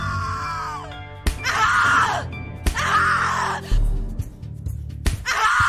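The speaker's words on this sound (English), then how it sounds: "Scream louder, little bitch. Scream your lungs out." A person in The Cat Lady horror video game screams in repeated anguished bursts, four loud close shrieks separated by short gaps and heavy breaths.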